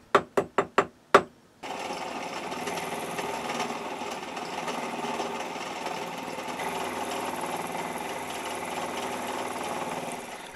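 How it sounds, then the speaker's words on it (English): A milling machine cuts stock from the main column of a wig-wag steam engine. A few sharp knocks come first, then a steady, close grinding whine and chatter of the cutter runs on without pause. "The flat edge left on the column can now be used to square the work in the mill and begin to remove the stock"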